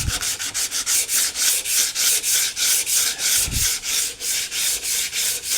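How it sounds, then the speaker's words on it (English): Close, rhythmic hand sanding with 80-grit paper on a steel car rear quarter panel, roughly a dozen quick, even scratchy strokes in steady succession with no talking. "I'm just rolling some 80 grit just in a half circle like that"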